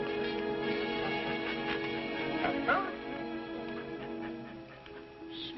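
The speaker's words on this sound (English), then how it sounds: "Smart dog." A tracking dog whimpers and yips softly near a riverbank, thin high whines rising over faint background music and voices.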